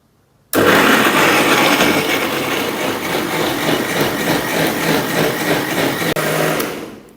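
A Jimmy smoothie blender blending orange and banana, a steady loud whirring motor that starts abruptly and runs several seconds, then winds down at the end, with no talking.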